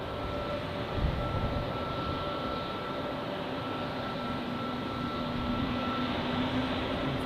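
Airbus A321neo jet at Zurich Airport, a steady broad engine roar with a faint whine held evenly throughout, continuous and moderately distant with no voices.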